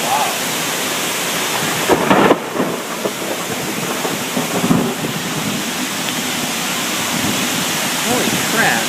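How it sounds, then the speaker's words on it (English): During a heavy July rainstorm in Traverse City, thunder rumbles under dense, loud rain roaring on surfaces, with a deeper swell around the middle of the downpour. "The thunder's right afterwards."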